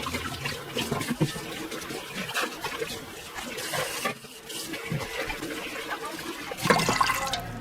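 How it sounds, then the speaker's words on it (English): A rice cooker pot is washed with soap and water under a running tap, a continuous splashing, gurgling rush of water that swells near the end, with no speech. "Wash and clean first with soap and water."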